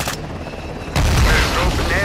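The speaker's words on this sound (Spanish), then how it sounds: "Cuidado, granada." A grenade explosion in Call of Duty: Modern Warfare 2 bursts in with a heavy, loud blast and a lingering rumble after a stretch of tense combat ambience and distant gunfire.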